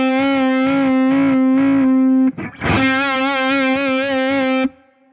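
Electric guitar with a distorted tone, one sustained note wavering in quick bend-and-release vibrato, a brief scratchy pick noise midway, then the note rings again with steady pulsing pitch before cutting off, loud and alone.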